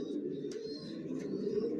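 Racing pigeons of a single Johnson long line coo softly inside a loft, a low, faint rolling murmur over quiet background noise.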